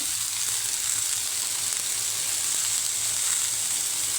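Coriander seeds sizzle steadily in hot oil as a spice tempering for a ridge gourd gravy, a constant bright frying hiss that stays even and fairly loud with no voices.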